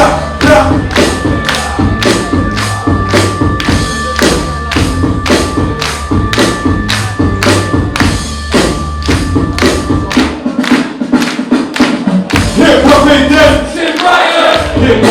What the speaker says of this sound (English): Everybody clap, clap, clap.